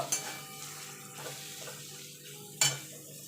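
Ground spices with Kashmiri chilli powder stirred in a frying pan for Bengali chicken kosha, soft scraping and a low sizzle with two sharper clinks of the utensil against the pan, no talking.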